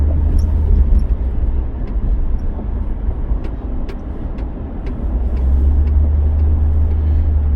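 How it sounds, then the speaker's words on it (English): Highway traffic heard from inside a car on a drive out of Detroit, recorded on a phone used as a dash cam: a loud, constant low road rumble and tire drone that swells and eases slightly as the car rolls on, with no talking. "Another car flying up to get into this lane."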